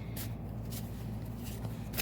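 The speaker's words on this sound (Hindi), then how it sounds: "तो जब तक मैं कार्ड शफल कर रही हूँ" Tarot cards being shuffled make soft riffling bursts that recur every half second or so, faint against a low steady hum, with no voice.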